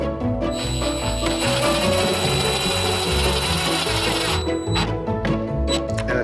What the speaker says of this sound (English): I've got the self-tapping screw. I'm going to take it, use my drill,